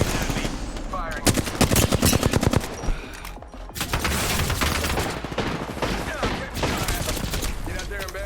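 Gunfire in the Apex Legends video game: a fast automatic burst followed by further rapid volleys, loud and close, over busy game effects with some talking.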